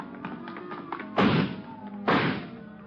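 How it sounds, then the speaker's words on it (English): Garage doors are broken through in an old radio crime drama sound effect, heard as two heavy, close thumps about a second apart after lighter tapping, with no voices over them. "he broke through the garage doors"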